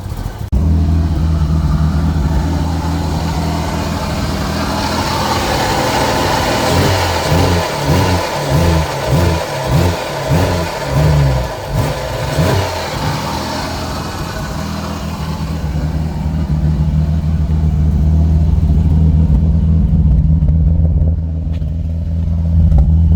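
Toyota Aristo engine, with its MAF sensor plugged in, idles loudly up close, then gives a run of quick rhythmic revs before settling back to a steady idle.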